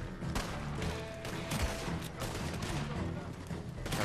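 A dense, continuous clatter of overlapping gunshots and impacts in Red Dead Redemption 2, a steady, busy firefight heard at moderate loudness with no clear pauses between the shots.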